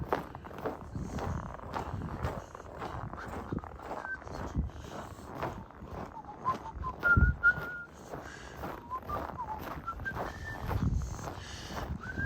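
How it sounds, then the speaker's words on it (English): A person whistles an uneven tune while walking outdoors in cold winter weather in downtown Regina, with crunchy footsteps tapping steadily underneath and the melody wavering and breaking off at times, close and fairly quiet. "Not very good whistling."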